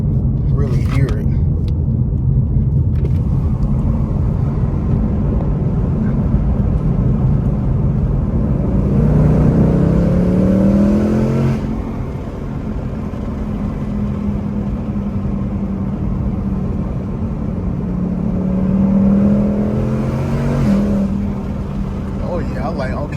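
Ford Mustang S550 Mach 1 engine heard from inside the cabin with windows down: a loud, steady exhaust rumble with two rising rev sweeps as it accelerates and shifts.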